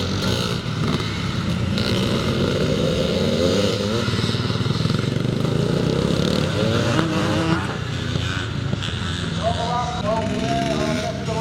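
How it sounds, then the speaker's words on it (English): Classic twinshock motocross motorcycles, including a 250 reed valve machine, racing in a Twinshock C Class race at the Cumberland Grand National: continuous loud engine roar and revving from several bikes, with commentary talk over it. "So as we look for a race leader on this final lap of the Twinshock C Class race, it looks like it's still Craig Holmes"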